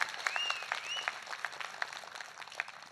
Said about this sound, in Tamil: இந்த மேடையில் நம்முடைய பாராட்டுதல்களை கையொலி மூலம் காட்டுங்கள்